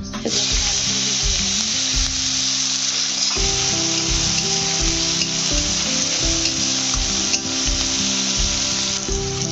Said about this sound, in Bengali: দেখো পেঁয়াজগুলো ভেজে নিচ্ছি ভালো করে।